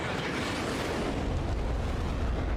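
A destroyed radar vehicle explodes in the Ace Combat 7 video game, a loud broad roaring blast with rumbling debris that holds steady and full for a couple of seconds.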